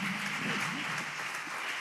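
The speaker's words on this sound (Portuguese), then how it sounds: "Uma salva de palmas a Cristo Jesus." A church congregation claps during a worship service, a dense, even wash of applause that keeps going through the whole short stretch, with faint voices mixed in.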